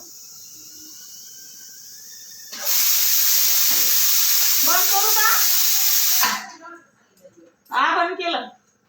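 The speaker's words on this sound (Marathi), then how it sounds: "मग रवा भाजणार तूप टाकून थोडंसं" Semolina roasting in ghee for Diwali laddoos gives a loud, steady sizzling hiss that starts abruptly and cuts off a few seconds later, with someone talking over and after it.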